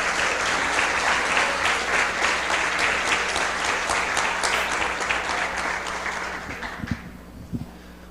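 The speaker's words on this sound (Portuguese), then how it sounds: "Pode aplaudir ao Senhor pela vitória que você está chegando" A Sunday church congregation claps loudly and steadily for several seconds before the applause thins out, leaving a few scattered claps and low thumps at the end.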